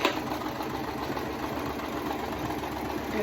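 A sewing machine runs steadily through fabric, a continuous whirring hum that carries evenly from start to finish, fairly close and alone with no voices.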